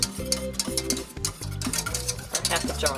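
Food sizzles and fries in a pan with stirring and clinking utensils, while music plays in the background and someone briefly speaks.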